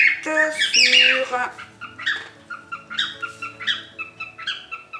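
A pet bird squawks loudly and repeatedly in a room, sharp shrill calls in quick bursts that carry over a voice talking in French during a scrapbooking craft session.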